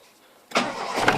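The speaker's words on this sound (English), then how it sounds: "It's a nice screaming fan belt there." After a half-second of near silence, a Toyota Glanza car engine with a GT turbo setup suddenly cranks and catches, running loudly with a high squealing whine from the fan belt riding on top.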